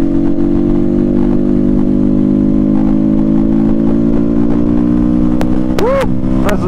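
An SWM RS300R motorcycle ridden on open roads, its engine droning loud and close with steady, slowly shifting pitch and wind rush, then quick revs rising and falling near the end.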